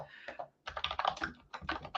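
Computer keyboard typing, quick bursts of clacking keystrokes close up, with a short pause between runs and no voices.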